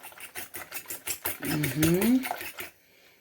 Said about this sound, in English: I'm just quickly going to whisk it nicely just to help with the coating.